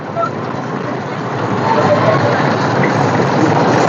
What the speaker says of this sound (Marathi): ट्रॅक्टर रॅलीमध्ये सर्वजण सहभागी झाले